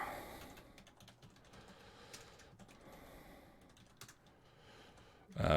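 Light, quick keystrokes tap on a computer keyboard as notes are typed, soft and close in a quiet room, ending with a brief louder bump.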